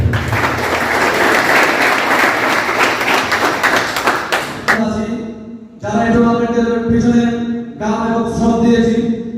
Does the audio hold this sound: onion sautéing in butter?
no